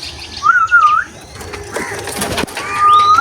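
Pigeons coo close by in soft, warbling calls, a couple of phrases early on and another near the end, with light rustling and faint background noise between.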